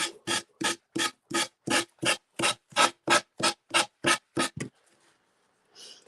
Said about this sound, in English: while we were sanding